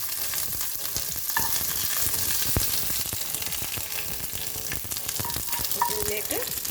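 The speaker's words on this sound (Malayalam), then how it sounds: "കറിവേപ്പില ഇട്ട് കൊടുക്കാം." Curry leaves, mustard seeds and dried red chillies crackling in hot oil for a Kerala jackfruit erissery tempering, a loud dense continuous sizzle with sharp pops and spits throughout, no voices.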